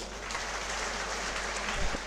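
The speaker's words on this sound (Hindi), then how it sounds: "एक बार आप सभी लोग जोरदार तालियां बजाएं आदरणीय सताराम जी के लिए" Applause breaks out at a political party organisational meeting, with a steady crowd clapping that stays moderately loud for about two seconds.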